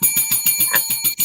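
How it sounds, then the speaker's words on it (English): A bell rings in quick repeated metallic dings, about eight strikes in a rapid even rhythm, bright and close with no talk. "Sound the bell. Sound the bell. Sound the bell, Pat."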